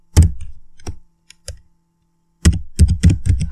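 Close keystrokes on a computer keyboard as code is typed, coming in quick clustered bursts of clicks with short pauses between them, fairly loud and with no talking over them.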